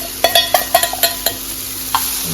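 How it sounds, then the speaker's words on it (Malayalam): Tempering for sambar stirred in hot oil at an Onam sadya, a steady sizzle broken by a quick series of sharp clicks and scrapes of a spoon against the pan, close and fairly loud. "ജസ്റ്റ് ഇളക്കി കൊടുക്കുന്നു"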